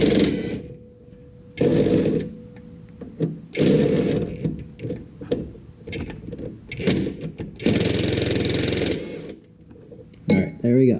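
A wrench works a 7/16 bolt off the parking brake of a 1978 Triumph Spitfire, with repeated bursts of rapid ratcheting clicks separated by short pauses, close up.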